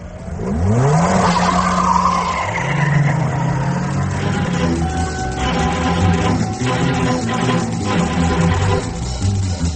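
A car sound effect in an audiobook: an engine revs as the car drives off, then loud sustained tire squeals and skidding follow, close and dominant for the whole stretch, with no speech.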